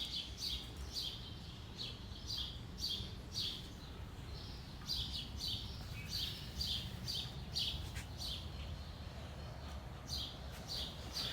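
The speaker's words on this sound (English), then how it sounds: "I like all the bird song in the background." Birdsong chirps repeatedly in the background, with faint, high, clustered tweets recurring steadily over low ambient noise.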